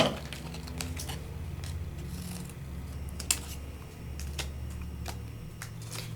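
Paper being trimmed for a sticker card, with a run of soft, close cutting snips and rustles at an uneven rhythm, one sharper snap near the middle, over a quiet room.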